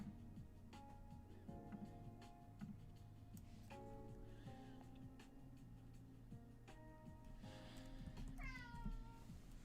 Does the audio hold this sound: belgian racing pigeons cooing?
no